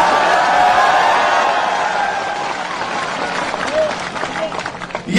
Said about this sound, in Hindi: इस पर ताली मारिए।